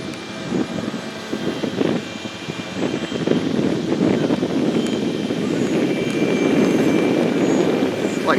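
AeroScout S 1.1m RC airplane coming in to land, its small electric motor a steady, broad whir held at a constant level outdoors, with no talk over it.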